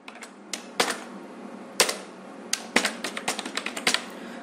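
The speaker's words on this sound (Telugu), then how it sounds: "ఇప్పుడు డేటా మీరు ఏదైతే టైప్ చేయాలనుకుంటున్నారో ఆ డేటా టైప్ చేయండి" Keys click on a computer keyboard while text is typed into MS Word, sounding as close, crisp, irregular taps in short bursts separated by pauses, with no talking.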